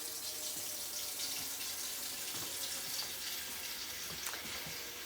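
Cold water running from a kitchen tap into a sink, a steady bright hiss and splash held evenly throughout with faint clinks underneath, no voices.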